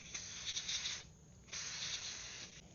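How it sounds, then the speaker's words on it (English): Parts cleaner and degreaser sprayed from an aerosol can onto a seized engine, heard as close, faint hissing bursts with a brief pause between them. "I just tried this parts and cleaner and degreaser"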